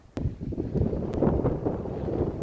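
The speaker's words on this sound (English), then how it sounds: "The wind is picking up though" Wind gusts buffet the microphone in a steady low rumble on a cold, rainy bicycle ride from Greenock to Kapunda, starting abruptly and holding at a moderate level throughout with no talk.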